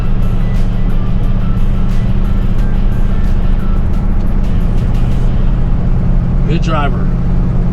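A 1971 Buick Skylark drives on a road test, its engine and road noise a steady loud drone from inside the cabin while someone comments over it.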